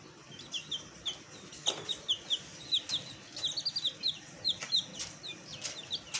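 Fancy chicks with feathered feet, kept alongside chukar partridges, give a run of high, quick peeps and soft clucks in a steady chatter, with faint handling noises and no talk.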